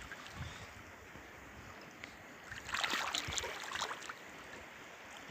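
Water runs along a small stream in a flooded area, a steady close rush with a busier splashing stretch in the middle and no voices.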